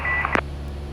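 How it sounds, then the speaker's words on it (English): A steady electronic tone from an aircraft's traffic alert sounds over a constant engine drone, interrupted by a short sharp beep; no one speaks. "You hear that beeping in the background? Yeah. That's his traffic alert."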